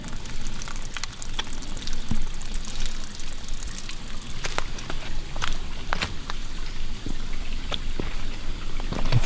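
Water trickling and pouring out from under rubber lining on a flume, a steady splashy wash with scattered drips and pattering, close and continuous throughout.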